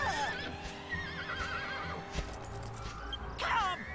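Horse in the Dragon Quest VIII video game neighing shrilly several times while bucking, with hoof clip-clops and game background sound underneath, and voices talking over it.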